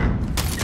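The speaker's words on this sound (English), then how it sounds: "That's a perfect grenade." Grenade blast in Modern Warfare 2020 gameplay, a loud, dense burst of booming noise that fills the short moment and swells again partway through, with no talk over it.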